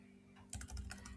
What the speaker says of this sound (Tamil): ஏர்டெல்னு டைப் பண்ணுவோம் வருதான்னு பார்ப்போம்.